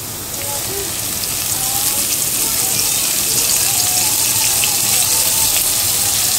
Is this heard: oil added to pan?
yes